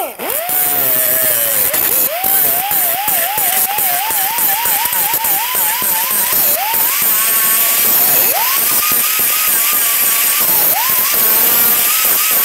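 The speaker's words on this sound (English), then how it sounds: "you can go ahead and use a cutting wheel" A cutting wheel grinds out the rivets on the fuel filler cover of a 2002-2008 Dodge Ram 1500. The wheel gives a loud, continuous high whine that wavers and dips as it bites into the metal, and it stays close throughout.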